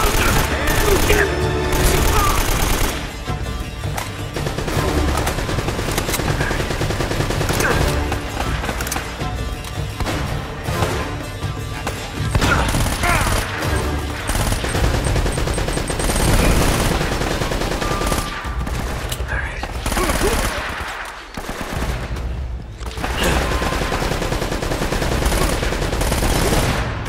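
Gunfire during a firefight in Uncharted: Drake's Fortune on PS4: sustained, dense bursts of shots and automatic fire fill the whole stretch, loud and continuous, with game voices shouting among the shots.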